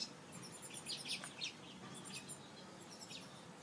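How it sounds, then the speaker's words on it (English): A small bird chirps nearby in an outdoor crafting setting, giving a few short, high, thin tweets in scattered bursts over a faint background hiss, with no talking. "I'm very distracted with this one little bird that's like sitting in front of me"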